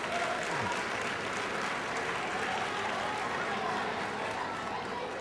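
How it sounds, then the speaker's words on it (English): Audience at a Job Corps graduation ceremony clapping, a dense steady wash of applause from a crowd filling the room, moderately distant and even throughout, with some faint voices mixed in. "Let's give her a round of applause for the beautiful."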